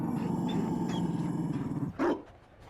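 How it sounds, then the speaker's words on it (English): A Mabari war dog in Dragon Age Inquisition growls low and continuously for a couple of seconds, close and rumbling, ending with a brief sharp huff or bark-like burst. "You found a dog."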